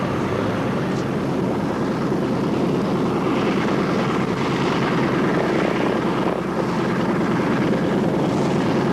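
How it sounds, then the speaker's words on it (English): C-47B military transport propeller plane, a version of the DC-3, droning with a loud, constant engine roar and propeller buzz throughout, close and unbroken, with no talking. "Right behind me is the C-47B, a military transport version of the McDonnell Douglas DC-3."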